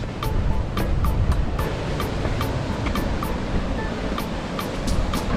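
Steady surf washes onto a resort beach in Santa Maria, Cuba, a continuous rushing roar of waves with wind buffeting the microphone and faint regular ticks overhead.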